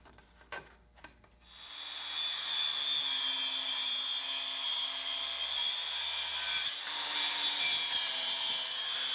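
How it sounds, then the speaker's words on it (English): Circular saw cutting a lap joint into a wooden 4x4 post, a loud steady whine with a bright high tone lasting several seconds, preceded by a few soft knocks and dipping briefly midway. "use a circular saw to cut a lap joint in"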